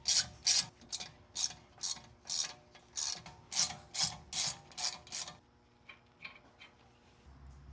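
A hand ratchet clicks in quick, close bursts while changing wheel studs on a car hub, a dozen or so rhythmic ratcheting strokes followed by quieter fiddling noises.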